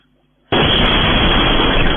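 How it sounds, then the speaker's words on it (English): After a half-second of near silence, a sudden loud explosion in Voronezh, Russia, erupts into a sustained, rumbling roar that fills the rest of the clip. "But here's the sounds of the explosions in Voronezh."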